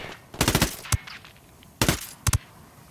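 Shots from the Ghost Recon Wildlands video game: two quick bursts of rapid rifle fire about a second and a half apart, each followed by a single or double shot, loud and close, with no talking.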